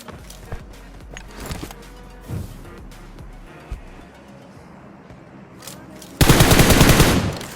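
Gunfire in the mobile shooter BGMI, scattered single shots and short bursts, then a loud sustained automatic burst near the end, with faint game background sounds.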